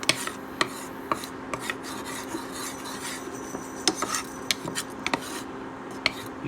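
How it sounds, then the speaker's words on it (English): A spoon scrapes and rasps around a pot of molasses warming on low heat, with steady stirring strokes and small clinks against the pot. "put your pot on low heat and stir this around until you can smell it"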